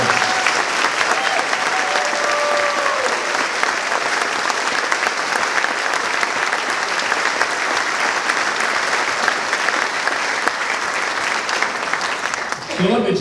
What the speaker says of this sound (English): Let's have a round of applause for the choir.